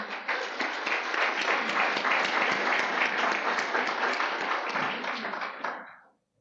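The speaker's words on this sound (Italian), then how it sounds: "I ask you if you can make an applause for all of them." An audience in Australia breaks into sustained, dense applause that holds steady for several seconds and then tapers off to silence.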